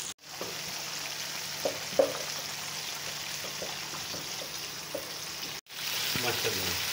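Chicken pieces fry hard in hot oil over a high flame for fried rice, a loud continuous sizzle with occasional pops and spatters, briefly cut off near the end before resuming just as strongly.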